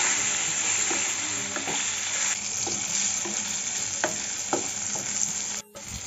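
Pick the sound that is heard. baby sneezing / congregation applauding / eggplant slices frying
eggplant slices frying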